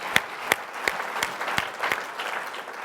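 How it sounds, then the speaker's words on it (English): A small audience at a business discussion about Hewlett-Packard Enterprise gives a brief, sparse round of applause: about six distinct, well-spaced handclaps over a faint, steady background, with no talking. "Round of applause for that."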